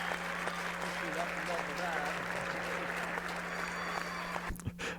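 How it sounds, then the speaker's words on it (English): Steady, dense applause fills the whole stretch, a crowd clapping continuously, with a low hum underneath and a couple of brief thumps near the end. "So let's give it a round of applause."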